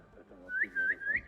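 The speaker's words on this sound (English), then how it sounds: "When hidden, distract them using whistle." A character's short rising whistle in the Assassin's Creed Mirage video game, used to distract guards: three quick, clear, upward-sliding whistle notes over quiet game ambience.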